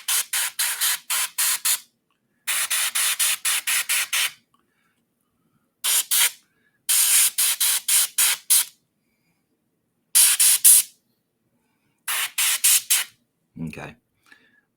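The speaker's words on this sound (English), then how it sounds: "I was trying to get around it without spraying all over her" Short bursts of aerosol spray paint hit a miniature figure of a botanist, several rapid hissing pulses per burst, each burst separated by quiet pauses, loud and close.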